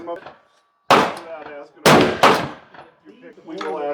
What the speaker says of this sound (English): He's going to shoot the 22 Creedmoor with the Barnes factory ammo, 65 LRX